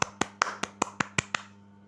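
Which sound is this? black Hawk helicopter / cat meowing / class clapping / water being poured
class clapping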